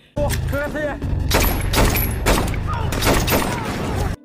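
Gunfire and explosions in a battle scene from the 2022 film Black Crab, with repeated loud shots and heavy booms in rapid succession and a brief voice at the start.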